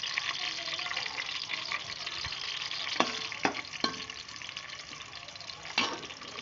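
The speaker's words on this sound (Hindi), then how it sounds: "अभी ना गोल्डन होने तक प्याज फ्राई होंगे अच्छी तरह से" Onions frying in oil until golden for a pressure cooker chicken biryani give a steady close sizzle, with a few sharp clinks from stirring and no talk.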